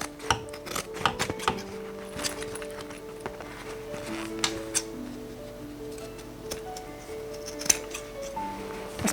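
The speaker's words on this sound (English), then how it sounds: "just cutting a little bit in the corners and a little bit along the side" Scissors make light, scattered snips while trimming the corners and side of a sewn fabric seam, giving quiet, irregular clicks at close range.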